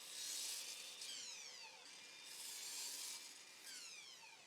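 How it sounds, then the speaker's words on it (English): Several quiet passes of a table saw cutting pine strips and MDF panels down to thickness, each a faint rising and falling whine with a brief pause between cuts. "I'm using my table saw to take both of these pieces to 8 millimeters"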